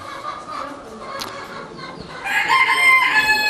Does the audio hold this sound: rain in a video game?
no